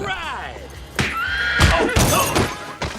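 A horse neighs in a long, wavering whinny, followed by louder snorts and bursts of movement close by, with speech-like sounds mixed in.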